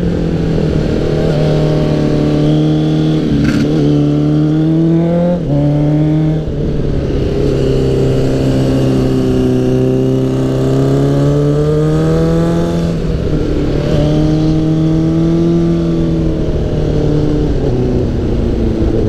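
A Suzuki Bandit 600 motorcycle revs hard from its exhaust, loud and close, the engine note climbing and falling in repeated sweeps with a brief sharp crack between pulls and no talking.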